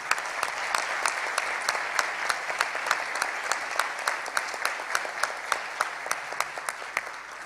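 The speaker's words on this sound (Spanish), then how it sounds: "pido un fuerte aplauso para él" An audience at an award ceremony applauds José María Basso with sustained clapping, a dense crowd wash carrying sharp rhythmic accent claps that fall into a steady beat, heard at moderate distance.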